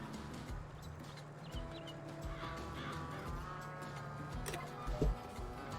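Chickens cluck and a rooster calls in Farming Simulator 22 against a busy game soundtrack of steady tones and soft ticking, with one sharper thump near the end.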